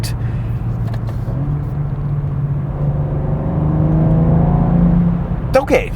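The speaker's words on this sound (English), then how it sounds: "Once you turbocharge an inline-six, it just takes the sound away" A turbocharged inline-six engine in a 2023 BMW M2 drones at a steady, muted low pitch, swelling slightly as it revs mid-clip, heard from inside the car.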